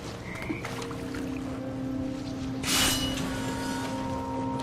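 Toads croak in the video game What Remains of Edith Finch, a few distinct croaks over a steady ambient bed with a brief watery splash near the end, no talking.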